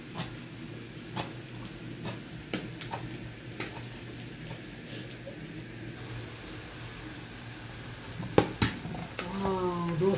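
Food frying in a pan, a steady close sizzle with occasional stirring clicks and scrapes, and a voice speaking briefly near the end.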